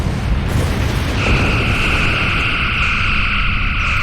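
Torpedoes striking a Klingon Bird of Prey in Star Trek Online, a rumbling explosive burst that gives way to a steady high whine over dense noise, loud and without talk.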